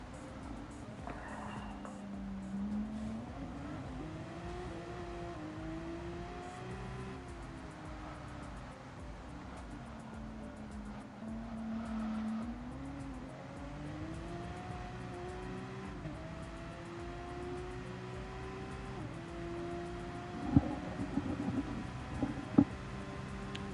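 A Gran Turismo 7 race car laps Fuji with a steady, droning engine note that climbs and drops through gear changes, and a few sharp clicks and bumps come near the end.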